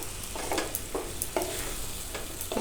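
Paneer tikka sandwich filling stirred in a pan, a spoon scraping and turning the mix in irregular strokes over a soft sizzle, close and clear with no voices.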